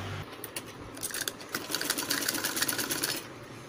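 Sewing machine stitching a saree being made into an umbrella dress, a fast, steady mechanical whir with rapid needle ticks that starts after a brief pause and runs close and moderately loud, with no talk.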